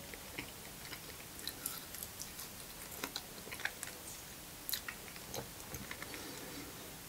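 Quiet chewing of cold-smoked mackerel, close and soft with small irregular crunches and clicks over a faint hiss.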